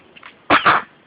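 A single short sneeze, close and fairly loud, following a faint breathy lead-in in a quiet room.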